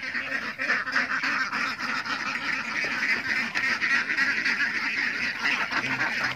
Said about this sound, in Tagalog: nandito yung itik natin